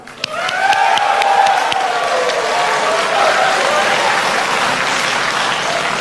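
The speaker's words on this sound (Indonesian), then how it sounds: "Kita berikan tepuk tangan." An audience at a 2014 Indonesian presidential and vice-presidential debate breaks into loud sustained applause with some cheering, rising quickly and holding steady for several seconds, with faint voices underneath.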